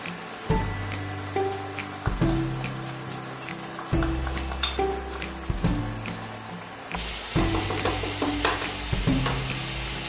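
Tomato puree hitting a pan of cooked, softened tomatoes for a red pizza and pasta sauce: steady loud sizzling and bubbling with repeated scraping stirs of a spoon, close up and alone, no talk.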